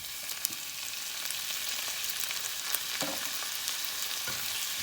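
Tomatoes sautéing with onions, turmeric and curry masala powder for kothu dosa, a steady soft sizzle and crackle in the pan with occasional stirring scrapes, no voices.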